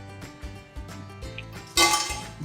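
Fried crispy cauliflower bhaji are handled in a pan or on a plate, making several light crunchy clinks and rustles that end in a brighter clattering burst.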